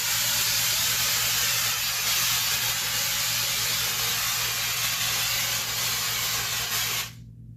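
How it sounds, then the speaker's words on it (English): A spray gun sprays wall texture onto a drywall patch in one continuous loud hiss, steady and close, then cuts off abruptly near the end. "Spraying all of your patch and feathering in to the existing texture"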